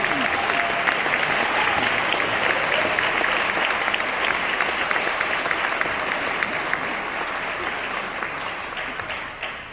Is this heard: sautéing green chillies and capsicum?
no